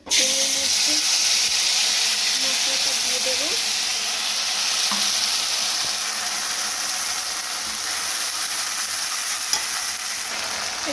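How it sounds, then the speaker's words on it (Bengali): Potatoes and onions fry in oil in a pan, giving a loud, continuous close-up sizzle and hiss with occasional stirring scrapes, and no talk over it. "এখানে আমার আলু পেঁয়াজটা ভাজা হয়ে গেছে"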